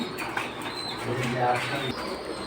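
At a pigeon market selling breeds such as Bagha, silver and Pankhi, pigeons coo in a steady, close chorus while people talk over them.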